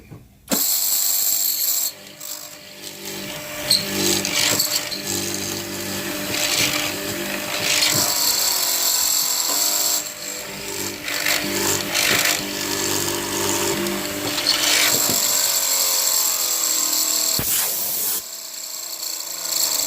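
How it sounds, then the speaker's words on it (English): A Robinson hollow square-chisel mortiser chops into wood, its mechanism working in loud, sustained bursts with clattering, ratchet-like strokes and brief pauses between plunges. "let's chop in both ends with the square chisel, the hollow chisel"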